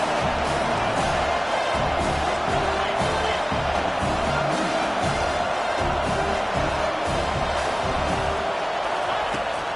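A college football stadium crowd roars in a dense, loud, unbroken wall of noise, sustained for the whole stretch with rhythmic thumping underneath.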